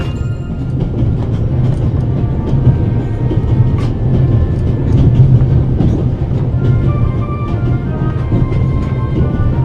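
A train travelling through the Alps in the video game The Raven Remastered: loud, steady rumble of a moving carriage with rhythmic wheel clatter on the rails, continuous and close, no talking.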